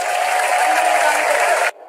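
A short burst of clapping from an audience, dense and even for under two seconds before it cuts off abruptly.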